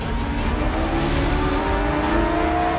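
Formula 1 car accelerating hard from a rolling start as the lights go out, a loud continuous engine roar that stays strong and close for a few seconds, no voices.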